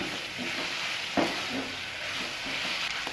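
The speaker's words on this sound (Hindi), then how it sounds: "सोया सॉस और ये केचप। इन सब चीज़ों को अच्छी तरह से मिक्स कर लेंगे।" A soy sauce and ketchup mixture stirred in a hot pan, giving a steady, fairly quiet sizzle with soft scraping strokes and one brief clink near the middle.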